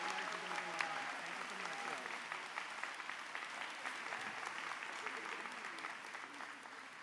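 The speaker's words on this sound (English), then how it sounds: "let's give Kathleen and Gillian another round of applause" A large audience at a university graduation ceremony claps steadily throughout, a broad, even applause at moderate distance with a faint voice briefly audible early on beneath the clapping.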